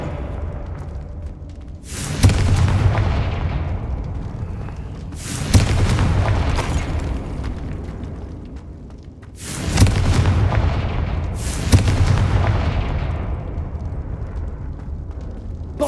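Confringo spell blasts in the game Hogwarts Legacy land as four heavy booming explosions, each a sharp hit followed by a long rumbling decay that overlaps the next.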